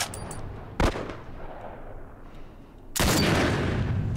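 Two loud, sharp sniper rifle shots in The Last of Us, the first a brief crack near the start and the second a heavier blast about three seconds later that rings on, over a low ambient game background.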